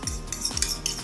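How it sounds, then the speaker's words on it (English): Utensil clinking and scraping against a bowl while salt and pepper are stirred together, several quick close metallic chinks in an irregular rhythm, with no voices. "Just go ahead and stir this together in here"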